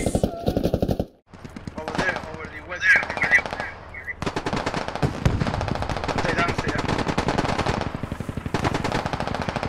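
Sustained automatic gunfire from the military shooter game Squad, rapid bursts repeating loudly and closely across nearly the whole stretch, with a brief gap early on and a voice shouting over the shooting.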